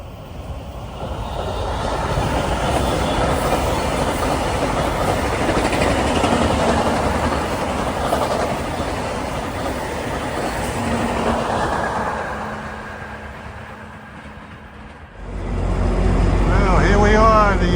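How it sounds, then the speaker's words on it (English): VIA Rail train 65, running Montreal to Toronto on the CN Kingston subdivision with two Siemens Charger locomotive sets coupled together, roars past up close in a long rumbling rush of wheels and engines that fades before a gust of wind at the end. "Approaching on the CN Kingston sub at 5:08 is via 65. Montreal to Toronto. He's got two Siemens Charger sets coupled together."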